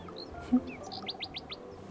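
Small birds chirp outdoors in a quick run of four or five bright, high tweets near the end, preceded by a few scattered calls over a low, steady background murmur.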